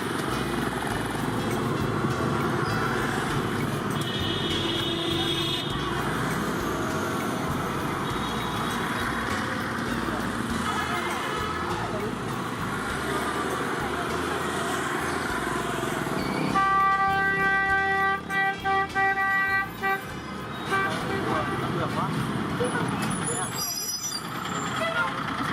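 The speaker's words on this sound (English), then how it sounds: "a nerve-wracking ride on these bicycles through the very busy" Busy Hanoi street traffic: dense engine rumble from trucks, buses and motorbikes, with a burst of honking horns and beeps midway, loud and close, with voices talking over it.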